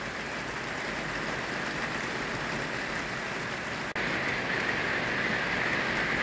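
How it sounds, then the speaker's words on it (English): Heavy rain pours down steadily in a dense, hissing wash, with a sudden step up in intensity partway through as the downpour grows heavier, close and continuous with no voices. "We just need a break from the rain."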